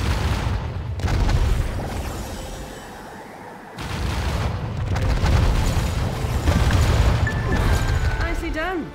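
Heavy weapon blasts in the video game Catalyst Black, rolling booms and gunfire-like bursts against a dense, loud bed of battle effects and music that keeps up throughout.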